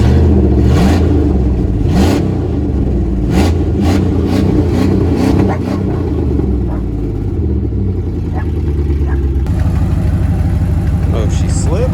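A Dodge Dakota R/T pickup with 185,000 miles runs close by, its engine rumbling steadily with repeated revs rising and falling, and a person speaks over the engine noise.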